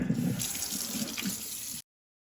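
Tap water running steadily into a sink for a cold-water rinse, a continuous close splashing flow that cuts off abruptly near the end.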